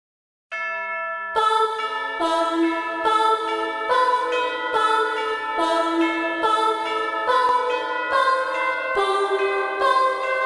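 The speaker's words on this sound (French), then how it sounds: "avec une cloche d'église." A church bell rings within a film score melody, struck in a steady repeating pattern alongside bright, chiming tonal notes that carry a gentle, childlike tune, clear and sustained throughout without talk.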